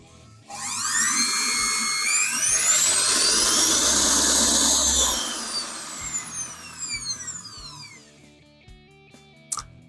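The replaced motor of a Monsieur Cuisine Plus food processor spins up to a high, whining scream that rises in pitch, holds for a few seconds, then winds down through descending tones before a few clicks.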